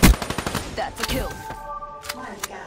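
Rapid SMG gunfire in Black Ops 3 on the Metro map, a dense burst of sharp shots at the start followed by scattered fainter shots and game effects, with voices talking over it.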